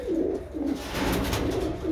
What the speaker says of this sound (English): We have some more racing pigeons.